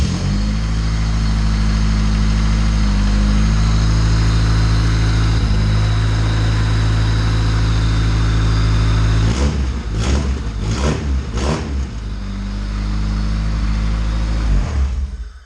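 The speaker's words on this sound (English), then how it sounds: "we just want to hear the motor run" A built, turbocharged Honda D16Z6 engine on its first start runs loudly at close range, idling roughly, then revs sharply several times in quick bursts before settling back down.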